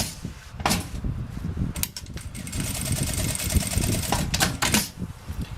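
A sewing machine stitches a casual backpack, running in short close bursts of rapid mechanical clatter separated by brief pauses and handling noises.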